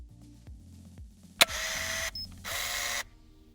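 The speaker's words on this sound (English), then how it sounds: "the first one, which is the Camera Motor 2" Camera motor sound effect: a sharp click followed by two bursts of whirring mechanical motor noise, the second after a short gap, over a low musical bed.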